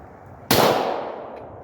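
A single sharp shot from a Glock 22 .40 caliber pistol fired one-handed at an outdoor range, a loud close crack that rings out and decays over about a second with no talk.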